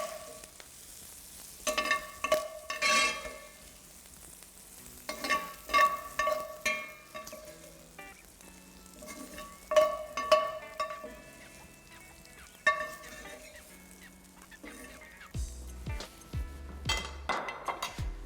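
Cooked bacon is stirred into softened onions in a hot pan, quiet sizzling broken by repeated bursts of scraping and clinking from the utensil against the pan, ending in a few low knocks.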